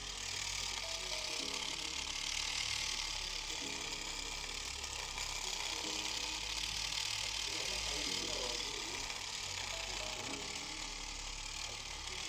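A ZUGU dreadlock machine switched on and running, giving a steady mechanical whir with a repeating ratcheting clatter, close and continuous throughout with no pause.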